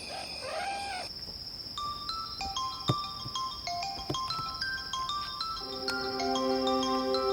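An electronic phone ringtone plays a repeating melody of clear, bright tones, looping steadily and growing slightly fuller toward the end.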